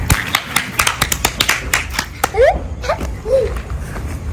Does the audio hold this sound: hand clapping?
yes